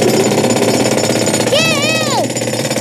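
A jackhammer pounds in a loud, continuous rapid rattle throughout, joined midway by a sweeping voice-like warble from a cartoon scene.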